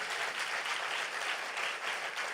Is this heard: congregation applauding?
yes